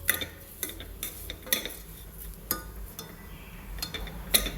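A spoon stirs and sautés in a pressure cooker with ghee in a home kitchen, giving quiet, irregular clinks and scrapes against the metal pot over a faint background hiss, with no talking.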